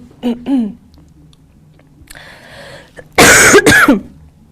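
A person coughs twice in a loud, harsh burst near the end, after some brief throat sounds and a stretch of faint rustling noise in a setting of questions from reporters.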